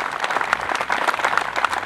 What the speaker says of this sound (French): on peut déjà leur applaudir ton comité